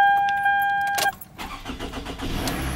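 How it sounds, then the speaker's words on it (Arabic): A car engine cranks and fires up just after its battery has been replaced. A steady electronic tone sits under the start, then a short burst rises and the engine settles into a rough, close idle. "الآن بجرب بشغل السيارة نشوف هل تشتغل ولا لا."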